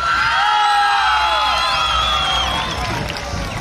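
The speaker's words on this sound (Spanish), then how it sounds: "Otra vez, a ver, el aplauso a la participante número 1." A crowd at a 2023 contest in Ponciano Arriaga cheers, whoops and shouts loudly for the first female contestant. The high, excited voices stay dense and continuous, then thin slightly toward the end.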